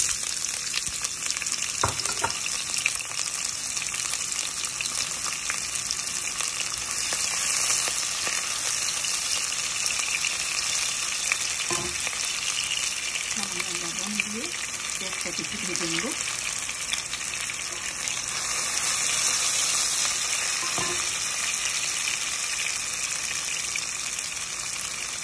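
Chopped onions fry in oil at the start of an egg curry, giving a steady, even sizzle that runs the whole length without pause.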